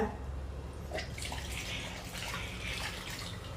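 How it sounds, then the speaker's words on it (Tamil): Water runs and splashes steadily, like a stream poured into a basin, close by with no voices. "தண்ணி ஊற்றிக்கோங்க."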